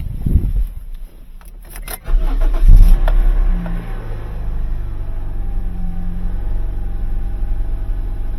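A 2012 Scion iQ engine cranks over and catches with a loud starter burst, then settles into a steady low idle hum with faint rattles, heard alone with no voices.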